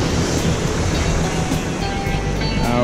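Ocean swell and surf breaking around tropical islands off Central America, a loud, continuous roar of waves close by with no voices.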